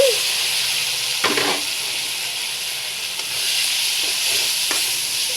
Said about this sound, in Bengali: আমি এখন এই এখনই একটু আলু কেটে রেখেছিলাম এই আলুগুলো দিয়ে দিচ্ছি